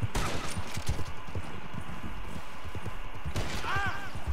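Gunfire in the Western video game Red Dead Redemption, rapid overlapping shots crackling through a busy, noisy game scene with hoofbeats, continuous over a few seconds.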